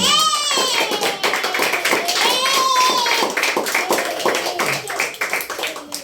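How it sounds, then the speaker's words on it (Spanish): Rhythmic clapping during worship in a church service, distinct sharp hand claps heard close along with voices, including a voice, talking or singing over them. "un aplauso a Cristo que le doy"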